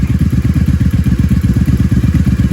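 A 1997 Honda Magna 750 (VF750C) V4 motorcycle, a rebuilt wrecked parts bike, idles close up with a loud, even, rapid lumpy exhaust pulse throughout.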